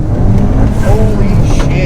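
A remapped car's engine under full throttle, a loud, steady, continuous roar from inside the cabin, building across the whole stretch, with a voice partly over it.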